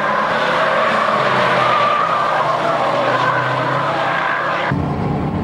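A race car skids with loud, sustained tire squeal as its rear slides out through a corner in a Japanese JDM racing battle, the screech continuous and close, with engine roar underneath until it cuts off sharply near the end.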